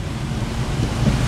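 Strong storm wind during flooding in Morocco roars steadily and loudly into the microphone, a dense, continuous rush with no voices.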